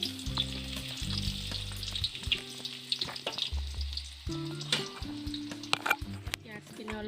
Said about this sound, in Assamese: তেলখিনি গৰম হোৱাত মই তাতে দি দিছো পিয়াজ